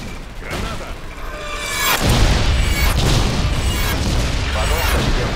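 A grenade detonates in a Gibraltar-themed video game, a loud broadband boom about two seconds in that swells into a sustained rumbling roar amid ongoing game noise, with voices talking around it.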